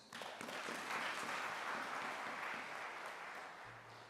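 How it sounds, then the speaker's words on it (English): Applause fills a hall at a University of Nairobi student recognition ceremony, a steady wash of many hands clapping at a distance, fairly faint and even throughout. "Another applause for DVC Academic Affairs"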